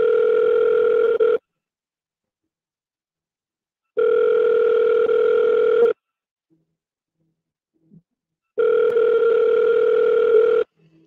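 An outgoing telephone call rings on the line: three long, steady electronic ringback tones, each about two seconds, separated by silent gaps, loud and clear with no talking over them.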